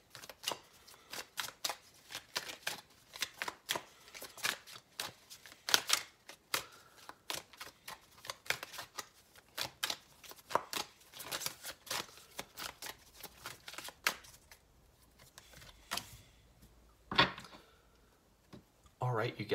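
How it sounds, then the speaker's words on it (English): A deck of tarot cards is shuffled and handled up close in a series of quick riffling flicks and slaps at an uneven rhythm, with a few quieter gaps and softer rustles toward the end. "you can see the cards flying out left and right"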